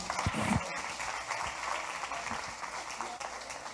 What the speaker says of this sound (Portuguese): quem concorda aplauda o Senhor